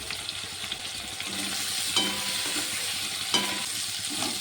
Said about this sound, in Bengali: মাছগুলি একটু হালকা করে ভাজবো,